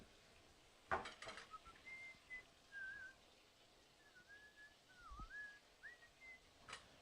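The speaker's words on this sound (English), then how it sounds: "I keep whistling." A person whistles a wandering tune in a kitchen while cooking, soft sliding notes in short phrases, with a couple of sharp clinks of pots and utensils nearby.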